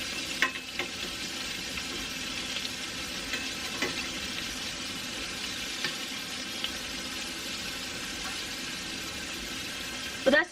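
Beef pieces for grillades sear in a hot pan, a steady crackling sizzle that runs throughout, with occasional clinks and scrapes as pieces are turned and a person talking over the cooking.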